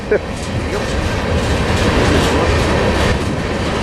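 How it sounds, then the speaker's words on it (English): A BNSF freight train with auto rack cars rolls past close by at a railfanning spot near Tehachapi, with a steady rumble and rhythmic clickety-clack of wheels, while people talk over it. "this is my favorite kind of BNSF auto rack right there"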